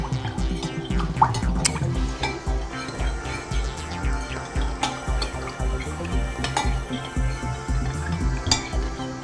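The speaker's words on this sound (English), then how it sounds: "Need to stir that in a bit because it hasn't dissolved yet." Water being stirred into bread dough mix in a bowl, with a continuous close wet stirring and scraping marked by irregular small clicks and drips, steady and moderately loud.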